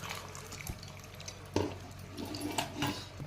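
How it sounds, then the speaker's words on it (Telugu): Tamarind juice pours and splashes into a pot of sambar in short bursts, fairly quiet, over a low steady hum. "చింతపండు రసం పోసుకుంటాను."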